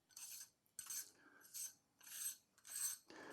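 A lugged inner front ring of an SW150 filter system is unscrewed by hand, giving five quiet, distinct rasping turns of rough metal-on-metal friction, with short pauses between them and no talking.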